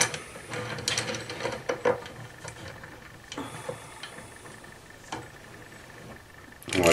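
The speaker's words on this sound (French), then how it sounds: "mettre en place donc une clé à chaîne, comme ça, et donc de desserrer l'embrayage" A chain wrench works on a Typhoon/Stalker clutch held in a vise, making close metallic clicks, ratcheting ticks and scraping knocks in uneven bursts, with a louder clank at the very end.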